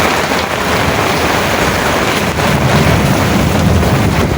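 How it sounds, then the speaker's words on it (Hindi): Heavy summer downpour mixed with falling hailstones makes a dense, steady, loud hiss and patter, continuous and close for several seconds. "इतनी तेज़ बारिश होने लगी कि साथ में ओले भी गिर रहे थे"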